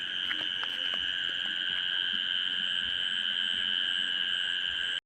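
Creatures call loudly and continuously from rain-flooded farm fields after a downpour, forming a steady, ringing chorus of insect- or frog-like trilling with a few faint clicks.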